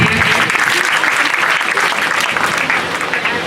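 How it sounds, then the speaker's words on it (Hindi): An audience at a school Teachers' Day celebration breaks into loud, dense applause that stays strong throughout, with a few voices mixed faintly into the clapping. "जोरदार तालियां इनके लिए।"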